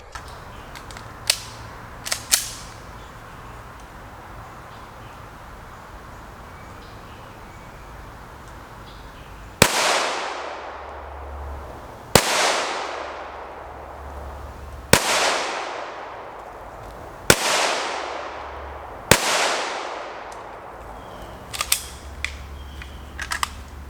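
A handgun fitted with a red dot sight fires at a target at 15 yards: a few faint early pops, then five loud, evenly spaced shots with ringing decay, followed by small clicks.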